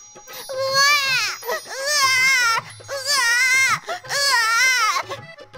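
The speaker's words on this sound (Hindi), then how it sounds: "बच्चे के रोने की आवाज सुनाई देने लगी" An animated story's newborn baby cries in loud, repeated wailing bursts, about four long cries with brief gasps between them, close and alone.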